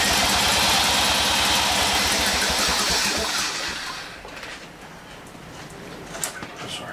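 An Evinrude 55 HP commercial outboard motor runs with a fast, loud, rhythmic chugging for about three seconds, then winds down and cuts out, leaving faint rattles and a small knock.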